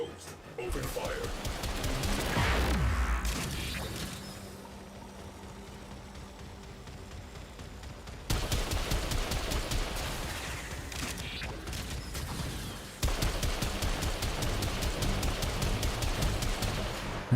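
Rapid gunfire in the video game Warframe, dense bursts of fast repeated shots in long runs that stop and restart with sudden cuts, under a steady mechanical hum and some game voice.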